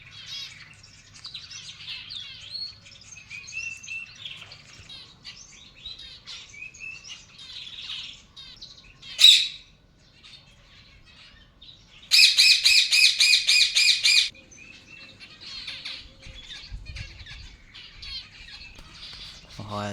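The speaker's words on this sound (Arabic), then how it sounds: "الكناريات." Canaries chirping and trilling among other caged birds, a lively mix of tweets with a loud burst of rapid trilling song and a sharp squawk, close and clear.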